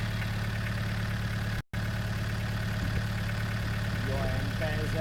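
A six-cylinder tractor engine idles with a steady, low, throbbing drone, close and unchanging apart from a momentary cut, while a voice speaks faintly near the end.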